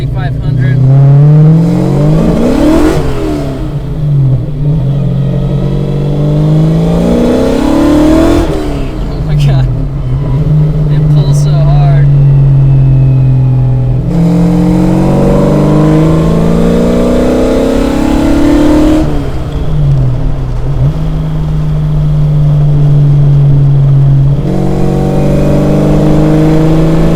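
A 500hp Fox Body car accelerates in first gear several times, each pull rising to about 4,500 rpm before dropping off, loud and close, with a voice talking over parts of the runs.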